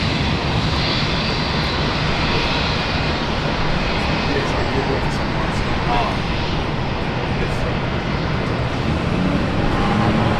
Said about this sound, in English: Korean 408, runway 19 right, clear to takeoff.